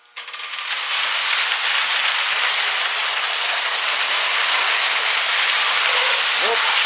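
A Lionel toy train runs on its track, squeaking for lack of grease; a close, steady mechanical whirring and rattling continues without pause, with no talking.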